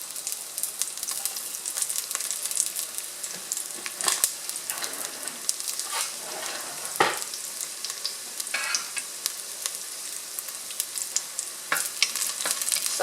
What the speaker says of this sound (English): when I put the garlic in there, it'll start sizzling